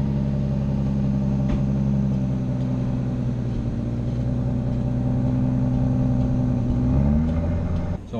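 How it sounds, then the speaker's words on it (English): A 2017 Aston Martin DB11 driving around a golf course, a steady low engine rumble heard from inside the car, with a slight rise in revs near the end. "let's go for a quick drive here around this beautiful golf course"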